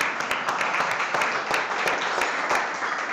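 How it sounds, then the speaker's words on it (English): An audience at a chef competition show claps for a judge, a short burst of fairly dense applause with a few sharper individual claps standing out, lasting about three seconds. "Please give JP a big round of applause."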